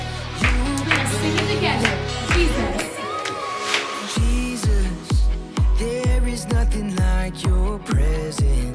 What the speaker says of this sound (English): Let's clap those hands.